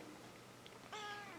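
A house cat gives one short, fairly clear meow near the end, heard indoors over a quiet room background.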